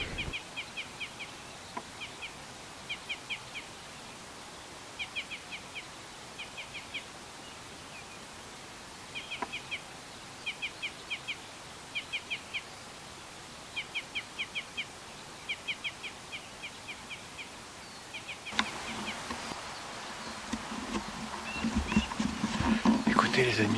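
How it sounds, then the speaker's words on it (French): Black grouse song carries across a rainy mountain bivouac as repeated short bursts of bird calls, fairly distant and regular, over a steady hiss of rain, with a louder rustling close by toward the end. "Écoutez les amis, c'est le chant du tétralyre."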